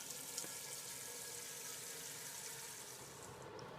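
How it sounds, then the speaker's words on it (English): Steady running water pours continuously, a broad rushing hiss like a tap filling a pot, with no talking. "Add water to a large pot."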